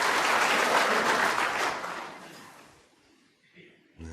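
Snooker crowd at the 2016 World Championship semi-final between Marco Fu and Mark Selby breaks into loud, sustained applause that fades over a few seconds into near silence before a brief burst of sound returns.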